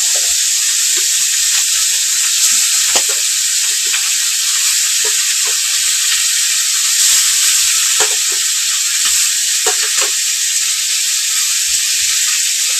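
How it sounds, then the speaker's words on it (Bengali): Bhola fish frying in a pan makes a loud, close, continuous sizzle and hiss, dotted with small crackles and pops throughout. "আর এখন ভাজবো মাছ।"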